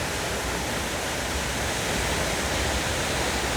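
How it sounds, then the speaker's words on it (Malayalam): Kappimala waterfall near Alakode, Kannur, roaring as a dense, steady rush of falling water, loud and close, unbroken for the whole stretch. "അതിൻ്റെ അടിയിൽ കൂടെ വന്നാൽ ഈ മനോഹരമായ വെള്ളച്ചാട്ടം."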